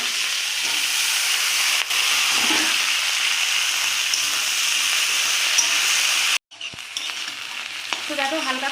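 Vegetables fry in hot oil with panch phoron in a wok, a loud, steady sizzle and hiss that runs unbroken, then cuts off briefly before resuming with crackling and stirring.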